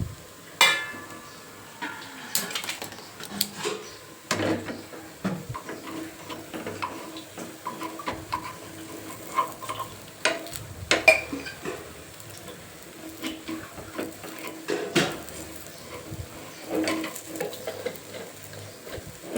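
Appe being flipped in an appe pan: a quiet, soft sizzle under a series of sharp metallic clicks and taps from the turning utensil, scattered irregularly through the clip, with no talking.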